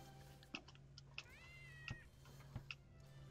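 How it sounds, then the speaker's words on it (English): A pet cat in the video game Starbound gives a drawn-out meow, with scattered clicks of keyboard and mouse input tapping through the quiet backdrop. "Every time the cat jumps, it meows."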